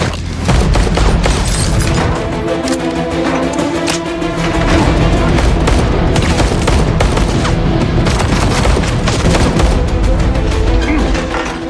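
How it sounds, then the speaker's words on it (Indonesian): Heavy gunfire in an action film shootout, sustained loud bursts of rapid shots and booms filling the whole stretch without a break, close and dense, with no talking. "hingga terjadilah aksi tembak-tembakan"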